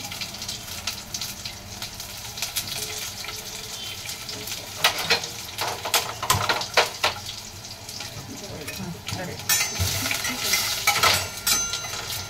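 Garlic hits hot oil already holding cumin and mustard seeds, frying with a continuous sizzle while utensils stir and clink against the pan, the crackle swelling louder toward the end.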